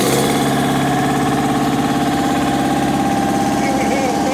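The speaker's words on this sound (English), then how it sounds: "Here we have a 1959 John Deere 530." A 1959 John Deere 530 tractor engine idles at an antique tractor parade of power, a loud, steady, even throb that continues unbroken throughout.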